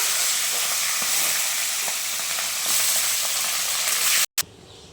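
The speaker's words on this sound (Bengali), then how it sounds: "তেল ভালো মতন গরম হয়ে গেছে, এখন মা মাছের মাথাগুলো ভেজে নিচ্ছে।" Fish heads fry in hot oil with a steady, loud sizzle that holds for about four seconds, then cuts out briefly before a quieter hiss returns.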